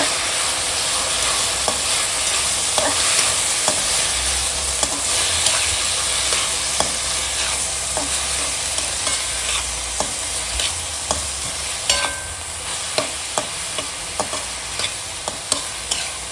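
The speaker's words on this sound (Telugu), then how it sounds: "ఇప్పుడు ఇందులో సన్నగా తరుక్కున్న 5 మీడియం సైజు టమాటాలు తరుగు వేయాలి. వేసి బాగా వేయించుకోవాలి." Chopped tomatoes and onions fry in a pan with a steady, bright sizzle and hiss, broken by regular spatula stirs and scrapes, close and fairly loud with no voices.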